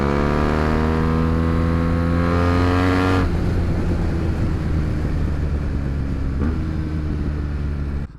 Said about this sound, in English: enjoy the amazing sounds being produced by this Van Demon full exhaust system